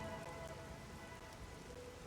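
Soft, steady rain ambience in the video game Raincode, a faint continuous patter of drops with no voices over it.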